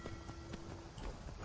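Horse hooves clip-clopping in the video game Skyrim, a steady series of soft, evenly spaced hoof thuds under a faint ambient bed.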